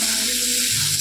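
Ground spices frying and being stirred in a pan, a steady bright sizzle with a brief scrape of stirring, close and loud with no talk.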